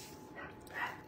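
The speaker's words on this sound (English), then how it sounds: "sorry, my dog's gonna bark" A pet dog lets out two short, muffled yips or barks from a little distance, soft and brief, with no voices.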